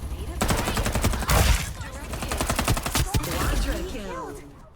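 Rapid automatic gunfire bursts out in the shooter game Farlight 84, mixed with other game effects. The shots are loud and dense, and a voice talks over them.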